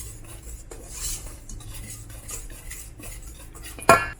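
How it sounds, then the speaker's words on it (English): A whisk working salt into dry ingredients for sticky bun dough in a bowl, giving soft repeated scraping and rustling strokes, ending in a sharp metallic clink against the rim. "Whisk this up"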